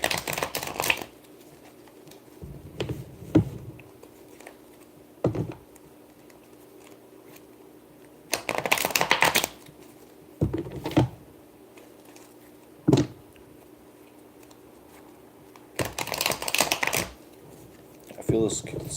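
Tarot cards are shuffled in several short, riffling bursts, soft and close, separated by quiet stretches, with a voice speaking faintly in the background.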